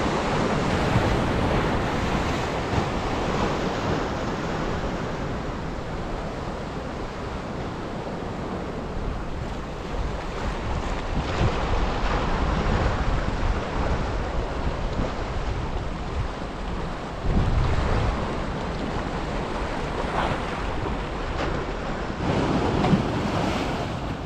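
Waves crashing and rolling onto the beach at Golem, Albania, a loud, continuous surf roar with periodic swells, mixed with gusting wind buffeting the microphone.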